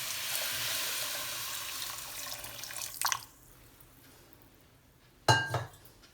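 Water poured onto sugar in a pan for Mysore Pak: a steady, close splashing hiss for about three seconds, then a quiet pause and a short, bright clink of a vessel near the end, with no talk.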